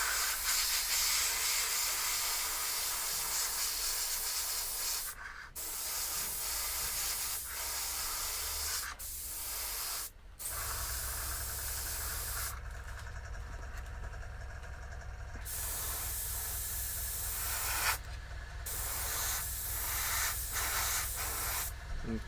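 An airbrush sprays paint over a vinyl-masked surface in a long, steady, close hiss with a few brief pauses, and a low hum runs underneath.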